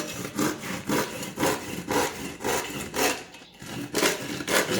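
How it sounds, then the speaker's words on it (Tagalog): Hand saw cutting through wood in repeated back-and-forth strokes, about ten steady rasping passes with a brief pause midway, loud and close with no talking. "Laki ng lagari ni Epi."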